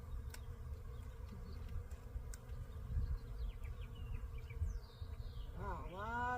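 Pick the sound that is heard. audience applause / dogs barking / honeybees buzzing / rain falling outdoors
honeybees buzzing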